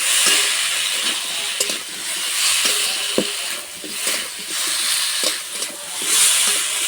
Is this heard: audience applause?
no